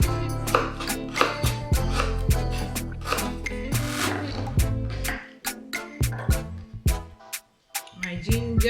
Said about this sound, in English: I'm cutting my ginger